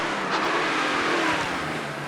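A six-cylinder hillclimb race car engine roars at a distance, revving steadily as it passes, with a broad rushing mechanical drone.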